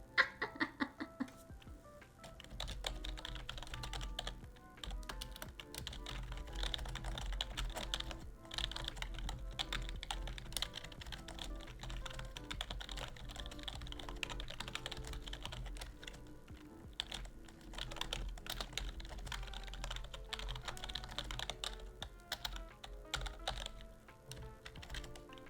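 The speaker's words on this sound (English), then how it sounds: "Typing ASMR?" Computer keyboard typing, a quiet, close, continuous patter of rapid key clicks, with brief pauses, heard alone.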